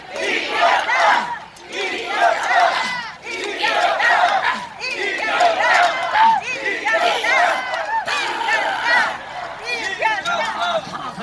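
Large outdoor rally crowd at Gwanghwamun shouting "we won" in unison, loud repeated chanted bursts with a rhythmic rise and fall and a babble of voices between them.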